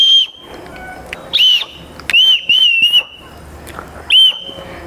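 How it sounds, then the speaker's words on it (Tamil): Several wooden toy whistles are blown one after another, short shrill tones in separate bursts of about half a second to a second, close and loud over faint background noise. "இப்போ இது எல்லா விசிலுமே வந்து நல்லா ஊதும்."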